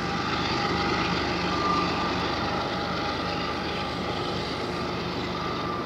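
A CSX freight train's diesel locomotives throttle up, with the distributed power unit in notch 8, after a slow pass over a crossing. A loud, steady engine roar holds without a break and with no talking.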